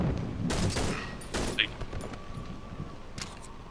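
Gunfire in the Cry of Fear video game, a few sharp, fairly quiet shots in quick bursts amid room noise, with someone talking during the shooting.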